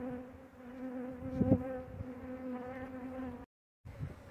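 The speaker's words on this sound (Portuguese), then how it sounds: "Comecei a mexer, começou a aparecer abelha." Bees swarm around an abandoned hive box outdoors, giving a steady layered buzzing drone throughout, with a brief louder thump of handling partway through and a short dropout near the end.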